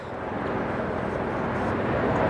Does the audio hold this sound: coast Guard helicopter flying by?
yes